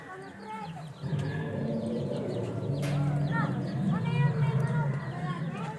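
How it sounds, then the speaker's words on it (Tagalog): Chickens cluck and chatter nearby under a steady low murmur, with a few sharper squawks rising from the flock. "Manok talaga yan."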